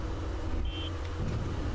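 Steady low engine drone of a crawling machine in the video game Nauticrawl, running continuously and fairly loud, with a faint brief whine partway through.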